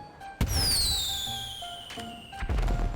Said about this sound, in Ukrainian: спробуємо одну ракету запустити, подивимося, що це буде за феєрверк